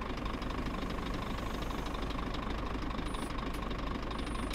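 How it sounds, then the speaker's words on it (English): A Scania truck engine idles in the video game On The Road, heard from outside the cab as a continuous low knocking rumble at steady volume, without speech. "And that's what it sounds like when you're out of the cab."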